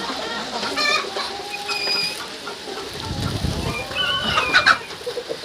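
A hen cackles and clucks loudly in bursts after laying an egg, with other chickens calling around it and faint rustling nearby.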